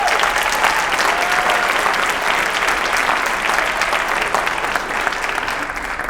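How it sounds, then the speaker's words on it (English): Audience applause at a school spring concert of jazz band and show choir, sustained even clapping from a crowd that carries on for several seconds before easing slightly at the end. "Give him a round of applause, will you?"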